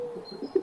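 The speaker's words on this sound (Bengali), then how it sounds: "কড়িকাঠের পায়রাগুলো বাকুম বাকুম শব্দ তুলে গান ধরেছে।" Pigeons coo softly up in the rafters, a few short, low throaty calls close by, fairly quiet with no voices.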